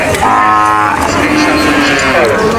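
Cattle low loudly and close by at a busy Bogura livestock market, one drawn-out moo rising over a steady crowd murmur and market bustle.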